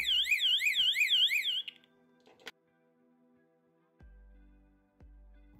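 A camera's motion sensor alarm sounds during a perimeter installation test: a loud warbling siren for about a second and a half, then stops, leaving clicks and a low hum with faint thumps.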